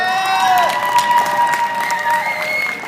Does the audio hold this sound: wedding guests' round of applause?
yes